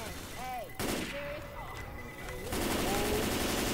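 Zombie-shooter Left 4 Dead 2 gunfire rattles in sustained bursts of automatic fire, fairly loud and continuous, with whistling and screeching game effects layered in and a brief break near the middle before the shooting resumes.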